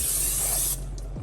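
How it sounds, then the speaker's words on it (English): A short, loud hiss of cooking spray aimed onto a pan on high-ish heat, lasting under a second and then cutting off abruptly, close up and alone. "We're gonna go cooking spray."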